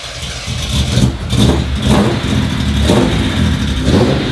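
A Nissan R32 GTR engine revs loudly and close in several repeated bursts, rising and settling in uneven pulses over a rough mid-pitched idle, with no talking.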